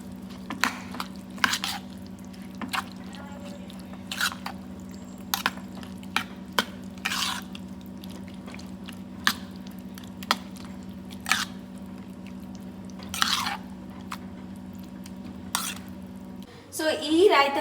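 Salt and curd being stirred together for raita, heard as soft, wet squishing and spoon clicks that come in irregular bursts against a steady low hum, with a louder rustle at the end.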